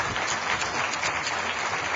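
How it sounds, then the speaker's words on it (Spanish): A crowd applauds Olympic boxing champions at a televised Venezuelan presidential broadcast, dense continuous clapping filling the whole two seconds at a steady, fairly loud level. "Vamos a darle ese aplauso, pues, a nuestros campeones"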